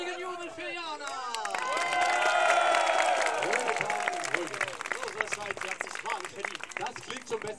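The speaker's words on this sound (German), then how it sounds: "Ein anständiger Jubel für Jana." Applause and cheering from a crowd at a fire show at the Zitadelle Spandau, building from scattered claps into a loud roar of whoops and whistles, then thinning into continued clapping.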